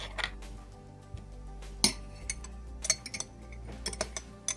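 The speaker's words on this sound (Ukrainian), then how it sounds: "Ось так, вмішуємо ложкою." A spoon clinks against the sides of a cup of tea in scattered, irregular taps over a low background hum, with no voices.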